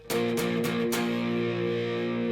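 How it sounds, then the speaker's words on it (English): Electric guitar strummed a few times with a light crunchy overdrive, playing a song intro, then a chord left ringing and sustaining, played alone at moderate volume. "I just want that little bit of crunch on my guitar."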